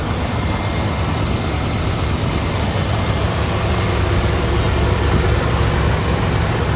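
A 1990 GMC Sierra truck engine runs steadily under the open hood, a constant broadband rumble with a low idling drone that holds level throughout, close and fairly loud with no talk over it.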